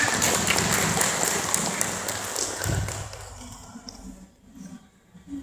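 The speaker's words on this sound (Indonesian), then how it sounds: "Beri tepuk tangan." An audience claps at a Qur'an recitation ceremony held at an Islamic boarding school. Dense, sustained applause holds for about three seconds, then thins out and fades to scattered taps.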